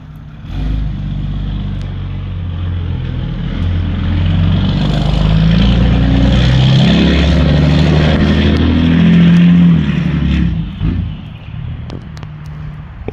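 A Dodge diesel semi truck pulls away with a loud, deep engine rumble that swells as it moves off, then fades near the end, with no voices.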